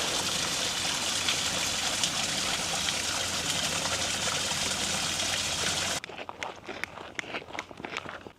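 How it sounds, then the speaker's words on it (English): Water rushing steadily from a small waterfall beside a hiking trail in Valdez, a constant close roar that cuts off abruptly, followed by crunching footsteps on the trail. "Let's sneak our own little peek of waterfall,"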